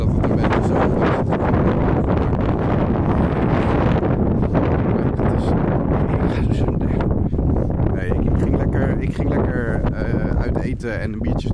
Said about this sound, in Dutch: Zo, wat een wind joh. Dikke wind.